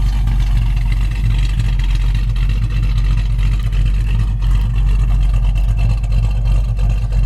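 A 1967 Shelby GT350 fastback tribute idles with its dual exhaust, its carburetor needing slight adjustment, giving a steady, loud, close low rumble throughout with no change in pace.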